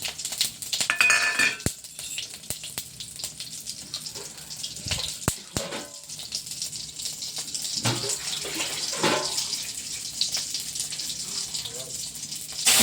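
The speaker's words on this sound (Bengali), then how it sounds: "তারপরে দিয়ে দিল জল ফোড়ন করার পরে দিয়ে দিল জল" Water runs and splashes into a pan of tempered dry red chilli and whole cumin, a continuous pouring wash with occasional clinks of metal cookware, moderately close and fairly soft.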